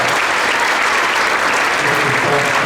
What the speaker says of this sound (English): Round of applause for Maddie.